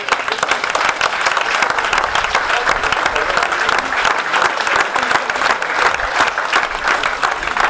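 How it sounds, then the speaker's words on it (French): Audience at a Fête de la Saint Elme 2019 gathering for the SNSM sea-rescue society breaks into loud, steady applause that holds throughout, dense clapping without a break. "Bravo à lui aussi, on peut l'applaudir bien fort."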